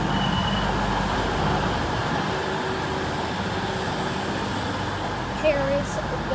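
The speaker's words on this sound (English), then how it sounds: "Here is the train." A train pulls into a station in Cornwall, its steady rumble and rail noise filling the platform with a brief squeal of brakes near the end, continuous and moderately loud.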